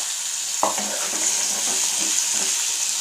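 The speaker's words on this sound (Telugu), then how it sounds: "పచ్చివాసన పోయేంత వరకు ఉల్లిగడ్డలని ఫ్రై చేసుకొని అందులో కాకరకాయలని వేసుకోవాలండి" Onions and small bitter gourds fry in a pan with a steady bright sizzle, a utensil scrape or knock near the start and soft stirring movements under the continuous hiss.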